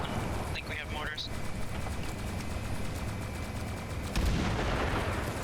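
Mortar fire lands in a video game battle. One heavy, low thump stands out near the end above a constant rumble of battle noise.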